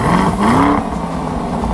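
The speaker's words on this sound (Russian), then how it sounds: "Смотрите, как включается зажигание." A Lamborghini SUV's engine fires up after the ignition is switched on, with a loud rising whine and roar that peaks briefly before settling into a lower, steady idle rumble.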